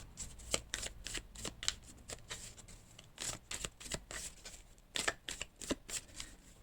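Tarot cards being shuffled in repeated quick riffling bursts, close and fairly quiet, with brief pauses between each pass and no talking.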